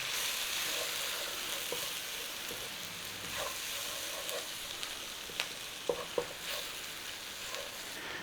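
Sliced mushrooms dusted with flour fry in a pan with a soft, steady sizzle, broken by occasional light scrapes and taps of stirring near the end, close by and with no talking.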